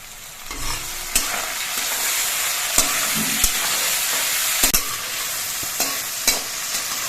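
Onions and chopped tomato sizzle steadily in a pan for a mutton curry, with a few sharp spoon scrapes and clinks against the pan breaking through the constant frying hiss.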